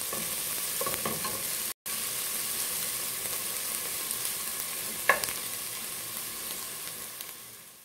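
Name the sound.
onions sautéing and sizzling in a pan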